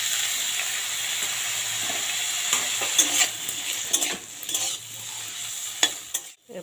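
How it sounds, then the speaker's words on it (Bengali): Cauliflower frying in hot oil in a wok produces a steady, bright sizzle, nearby and moderately loud, broken by occasional clinks and stirring scrapes toward the end, with no voices. "এবার ফুলকপিটা একটু ভেজে নেব।"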